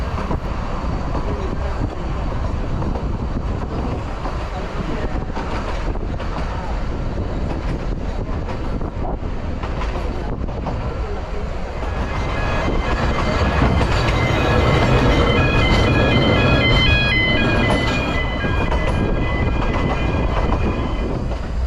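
A Vale of Rheidol Railway train runs on its approach into Aberystwyth, its steady loud rumble and clickety-clack wheels close by, with squealing wheel tones rising toward the end.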